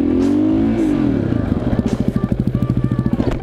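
A KTM 625 motorcycle with Brembo front brakes brakes hard into a small stoppie, its engine note sagging after a loud opening rev, then settling into a close, rapid thumping idle with light clatter.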